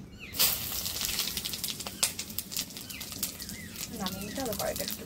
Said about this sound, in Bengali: তেল খুব গরম হয়ে গেছে, এবার ওর মধ্যে তেজপাতা, শুকনো লঙ্কা, থেতো করা গরম মশলা আর জিরে দিয়ে দিচ্ছি।